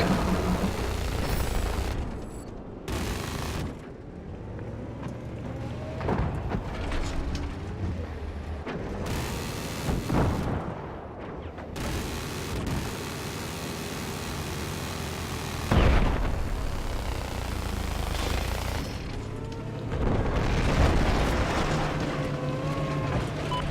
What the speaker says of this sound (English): That's right, the bomb has been dropped.